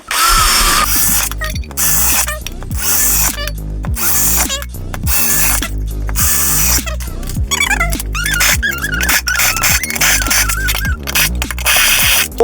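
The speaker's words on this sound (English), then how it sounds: "We're going to drill these really quickly" A power drill bores a series of holes through a Bible being prepared for circuit bending, with repeated short bursts of motor whine that rise and fall, close and loud, separated by brief pauses and handling clatter.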